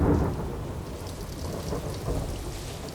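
Steady rain falling during a thunderstorm outdoors in the bush, a dense continuous wash with a low rumble of thunder underneath, no voices.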